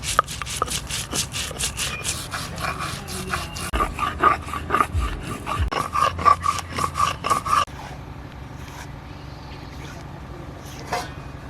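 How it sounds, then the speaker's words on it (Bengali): Mustard seeds ground together with green chili, a little salt and turmeric, giving steady rhythmic rubbing and scraping strokes that grow stronger midway, then give way to quieter, sparser scrapes. "তাই এখন সরিষাটা বেটে নেব।"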